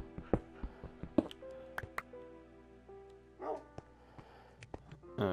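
Puppies in a Minecraft game bark and yip in short separate bursts with a few whimpers between them. They sound fairly close and moderately loud, and nobody speaks.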